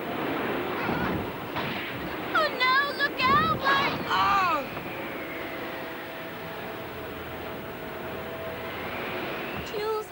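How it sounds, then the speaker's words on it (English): Strong wind at sea in an audio drama, a steady gusting roar with surf-like wash filling the scene, briefly overlaid by bird-like calls and talk early on before the wind continues alone. "I really hate this wind."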